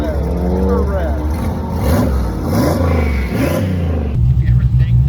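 Chevrolet S10 truck with a turbo and CO2 boost control, its engine revving in rising and falling sweeps, loud and close, with voices talking over it before the revs swell again at the end.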